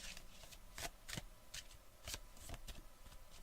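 Oracle cards are shuffled in a quiet, close series of crisp riffles and slaps, a handful of quick papery bursts spaced irregularly.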